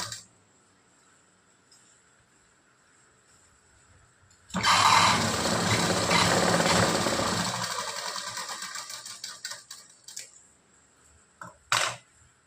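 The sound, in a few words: sewing machine stitching blouse tucks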